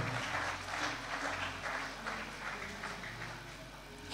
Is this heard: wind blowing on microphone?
no